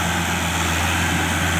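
A Mahindra Arjun Ultra 605 DI tractor with a loaded trolley, stuck in mud, runs its engine at full throttle, a loud, steady, close droning roar with a strong low hum and no pauses.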